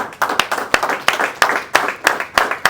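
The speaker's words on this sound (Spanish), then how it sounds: "Dale un aplauso a Cristo." Brisk rhythmic clapping from a congregation during a sermon, hands striking in a steady, even beat, close and lively.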